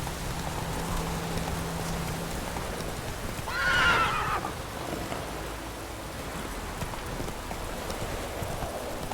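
A horse neighs once in The Witcher 3, a loud whinny lasting about a second midway through, over a steady bed of rain falling throughout.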